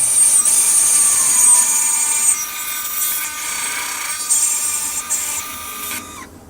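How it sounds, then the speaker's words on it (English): Wood lathe hollowing a wooden ring blank held in a chuck with a zero-clearance tailstock, giving a steady high-pitched scraping whine with a sustained tone that holds loud throughout, then cuts off at the end. "Let's hollow this thing out now."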